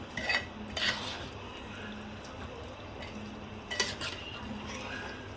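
Dum biryani being mixed in a pot: soft clinks and scrapes of a spoon against the metal, with a few louder knocks among quiet stirring and a low background hum.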